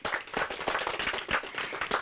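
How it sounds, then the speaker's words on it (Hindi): Steady applause from a crowd, dense overlapping claps filling the whole stretch at a fairly loud level, with no voices on top. "जोरदार तालियां हो जाए।"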